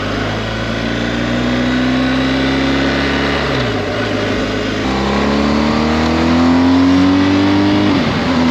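A car drives past on a winding mountain motorcycle road in North Carolina, its engine loud and close, revving with rising and falling pitch as it shifts and accelerates through the bends.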